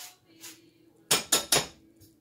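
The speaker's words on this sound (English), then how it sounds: "Use this knife to scrape it off" A knife clanks and scrapes against a metal pan in three sharp, close metallic strokes, with fainter scraping before them.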